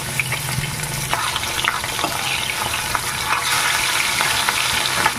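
Pieces of katla fish fry in hot oil in a wok, sizzling loudly and steadily with bright crackles and spatters. There is no talk.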